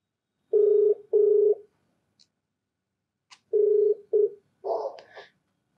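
A telephone call is placed, with paired ringback tones, a short gap, a click, then two more rings and a brief beep, heard clearly and alone with no talking.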